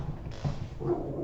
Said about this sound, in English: Don't start barking now.